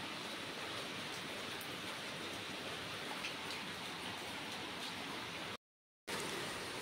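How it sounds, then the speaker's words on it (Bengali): Heavy rain pours down steadily after a whole night of rainfall, flooded streets and drains merged together, a dense continuous hiss with no talk, cutting out briefly near the end before resuming. "এত বৃষ্টি হয়েছে সারা রাত, আর সকালবেলা থেকেও হচ্ছে।"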